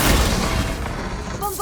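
A Confringo blast spell in Hogwarts Legacy bursts with a sharp, booming thump at the start, then fades into a muffled rumble and a brief flicker of game effects.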